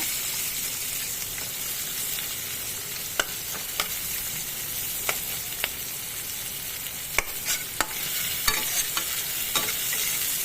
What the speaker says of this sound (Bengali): এই দেখো পেঁয়াজগুলো দিয়ে দিলাম তেলের মধ্যে দিয়ে একটু ভালো করে নেড়ে নেব